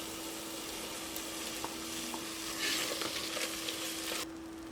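Blended tomato puree hits a hot pan of ginger and garlic for a chicken curry, giving a steady close sizzle with scattered stirring clinks and scrapes and a louder burst of frying near the end, no talk.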